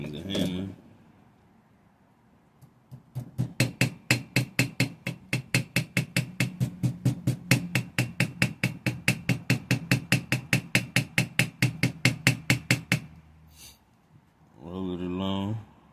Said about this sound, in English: All you really need is a hammer.